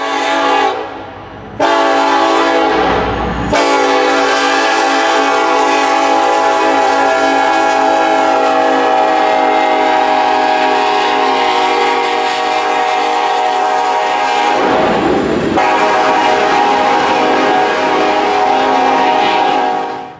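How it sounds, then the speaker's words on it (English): A loud, sustained multi-chime K5LLA horn on an SD70ACe locomotive blares in long blasts, with brief breaks near the start and a short pause before a final extended blast. "Versus this K5 LLA on an SD70 Ace."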